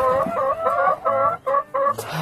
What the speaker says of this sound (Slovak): Máme Leghorn kohúta, obyčajného kohúta a obyčajného kohúta a 20 sliepok.